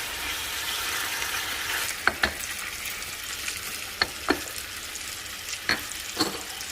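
Onion sautés in a hot frying pan for a potato dinner, a constant bright sizzle broken by a few sharp scrapes and knocks as it is stirred, close and with no talking.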